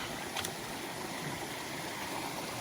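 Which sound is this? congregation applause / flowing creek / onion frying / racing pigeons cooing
flowing creek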